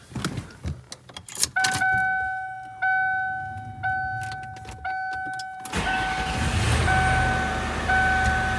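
A Lincoln Continental with freshly replaced spark plugs is cranked with a few clicks and warning chimes, then the engine catches and settles into a loud, steady idle close by.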